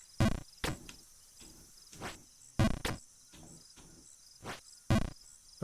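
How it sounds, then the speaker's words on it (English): Crickets chirp in the Jump King video game, a run of short, sharp chirps spaced irregularly, some louder and nearer, against a quiet background with no music. "all we hear are crickets right now."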